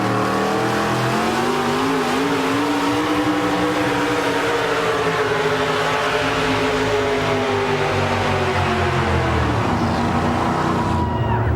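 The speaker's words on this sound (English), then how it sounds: "They're really going to roll out of the throttle" A 4WD pulling truck roars off the line at a truck pull in Goshen, Indiana, its engine loud and sustained for the whole stretch, droning with harsh rumbling harmonics that bog down toward the end.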